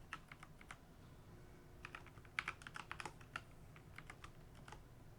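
Someone types on a computer keyboard, quiet irregular bursts of key clicks with short pauses between runs, close and alone with no talking.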